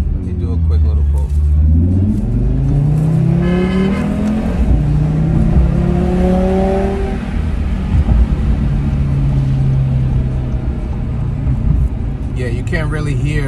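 Car fitted with an Eventuri intake, downpipe, midpipe and stage one Unitronic tune, revving up and down with loud induction whoosh and rumbling engine tone rising in pitch, with a voice talking over it.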